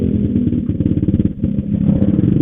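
Honda CBR 150R motorcycle engine droning loudly while riding at an easy pace, a steady close-up hum with slight pulsing and a brief dip midway, no talking.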